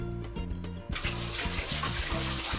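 Water runs from a kitchen tap to wet hands while cooking Peking-style duck, a steady gushing stream that starts abruptly partway through, heard over a low rhythmic mechanical hum.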